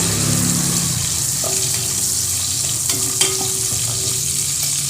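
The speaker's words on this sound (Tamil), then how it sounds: "இப்போ இது எல்லாமே வந்து கொஞ்சம் டிரான்ஸ்பரண்டாக ஆகக்கூடிய அளவுக்கு இது வந்து வதக்கிக்கிடுவோம்" Green chillies sauté in a hot pan while hotel-style sambar rice is prepared, a steady close sizzle with scattered stirring clicks and scrapes, no voices.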